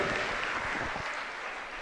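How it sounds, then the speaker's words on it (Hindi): Applause from a gathered audience at a Jain religious assembly welcoming donors, a dense continuous clapping that stays steady and moderately loud for the whole stretch, with no voices over it. "जोरदार तालियों से उनका स्वागत करें"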